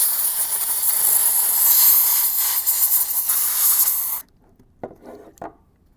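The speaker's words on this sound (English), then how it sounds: "So what we're going to do is take our compressed air and blow out some of this stuff." Compressed air blasts dirt out of the fan heatsink of an aquarium light in a strong, continuous hiss for about four seconds, then cuts off, leaving a few short clicks.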